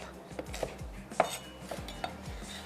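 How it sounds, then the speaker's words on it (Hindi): Green chilies roughly chopped with a knife on a board, a series of quick, irregular thuds and taps at moderate volume with no talking. "कुछ ले लेते हैं हरी मिर्चें, और इनको भी मैं कर लेती हूँ रफली चॉप।"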